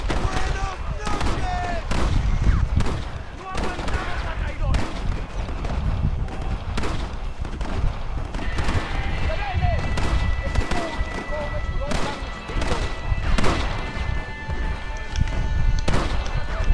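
Rolling block rifle with a scope firing in a desert-set shooter game: repeated sharp shots crack out over a dense, busy layer of game ambience and effects, with muffled voices mixed underneath.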